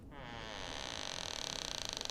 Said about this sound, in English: He hears the door creaking.